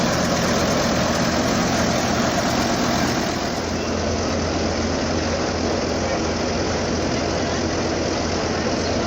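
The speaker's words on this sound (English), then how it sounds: "beast of a lorry" A big lorry's engine idles at a fair in a loud, constant low rumble heard from close by, with a slight drop in level partway through and no clear speech.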